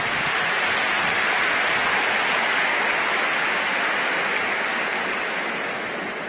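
Crowd applause at a presidential inauguration ceremony in Rwanda, a dense, steady wash of clapping from a large audience that sounds broad and somewhat distant, fading slightly near the end.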